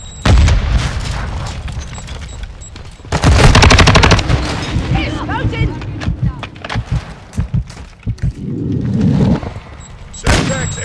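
Modern Warfare II firefight at Santa Sena Border Crossing: a loud, close Semtex grenade blast and heavy bursts of automatic gunfire, followed by scattered shots and thuds, with voices over the action.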